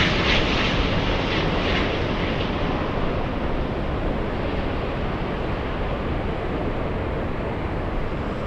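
An Airbus A350 airliner passes at LAX, a loud, broad roar of jet engines that holds steady and fades slightly over several seconds, with no talking.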